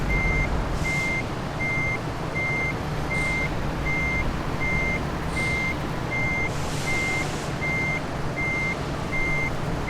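A 35-tonne M978 tactical truck backing up in Euro Truck Simulator 2, a loud evenly spaced reversing beep repeating over a steady diesel engine rumble with faint air hisses.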